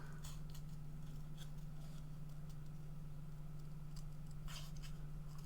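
Paper being cut with scissors at a craft table, a run of soft snipping and rustling strokes over a steady low electrical hum, with no voices.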